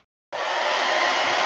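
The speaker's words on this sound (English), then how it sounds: "If you've ever used a hair dryer for airbrushing," A hair dryer switches on after a brief silence and blows a steady, loud, close whoosh to dry airbrushed paint on a shad glidebait fishing lure, with no talk.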